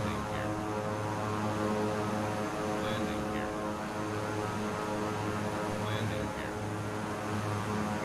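A propeller aircraft engine at low throttle in Microsoft Flight Simulator 2020, a steady droning hum with a low harmonic buzz that holds constant throughout, while a person speaks briefly over it.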